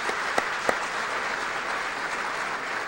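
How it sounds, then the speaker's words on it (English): Audience applause at an American Muslim achievement award ceremony, a dense, even wash of clapping from a large hall crowd with a couple of sharper claps early on, steady and moderately loud. "Let's give them all a round of applause."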